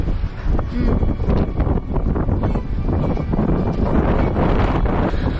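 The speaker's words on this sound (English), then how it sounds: "Alright, it's too cold and windy" Strong, cold wind buffets the microphone in a park overlooking Athens in a steady, loud roar with rumbling gusts throughout, and no clear voices come through.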